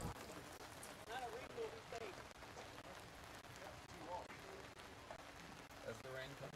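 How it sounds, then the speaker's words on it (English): Rain pours down on an outdoor baseball field during a game, making a soft, steady hiss, faint and distant, while people talk over it. "As the rain comes pouring down"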